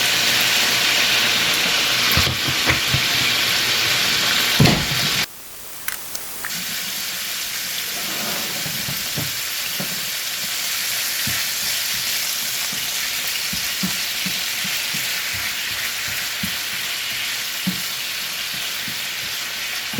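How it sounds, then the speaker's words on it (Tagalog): Spicy pork binagoongan with string beans stir-frying in oil, a steady loud sizzle throughout with a brief drop around five seconds, then scattered clicks and scrapes of stirring over the continuous frying hiss. "Stir fry again. Ayan, lagyan natin ng konting cooking oil."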